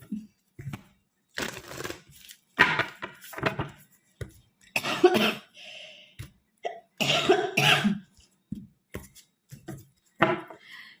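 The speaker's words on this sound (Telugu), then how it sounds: "ఇగ్నోర్ మై కాఫ్ అండి" Several harsh, bursty coughs spread across the clip, close and fairly loud, separated by short pauses.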